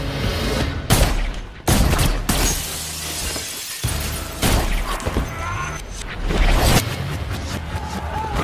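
Sharp bursts of close-range gunfire and shattering impacts crackle in rapid, irregular succession, loud and close, over a dense movie-style action soundtrack.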